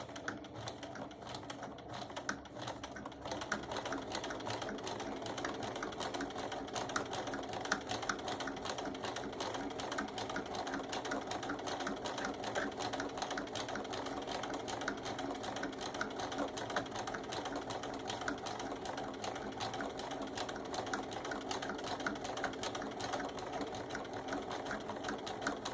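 A sewing machine runs steadily, stitching fabric for a round mug rug, its fast even whir continuous and close for the whole stretch after a brief quieter start.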